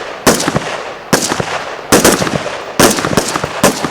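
A Swedish AK5c military rifle fires 5.56 full metal jacket rounds in loud, sharp bursts: four separate volleys of rapid shots, each cracking sharply and then ringing out briefly before the next.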